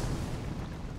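A magma spell in Elden Ring goes off like a fire mine, giving one short, muffled, rumbling burst that fades out quickly.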